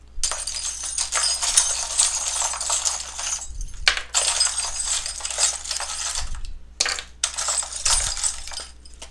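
Tarot cards and small charms are shuffled by hand, giving bursts of bright clinking and rustling in several long runs broken by brief pauses and soft low thumps, close and fairly loud.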